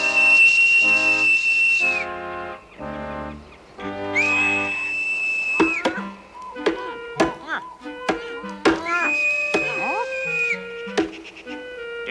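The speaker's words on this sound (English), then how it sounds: "I said I heard a whistle from afar" A whistle from far off sounds in a cartoon, three long steady high blasts spaced apart, mixed with lower tones and scattered sharp clicks between them.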